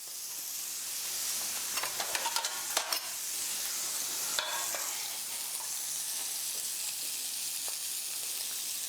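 Pan frying with thyme added: a close, crackly sizzle with bursts of popping and spitting early on, settling into a steady hiss of hot fat.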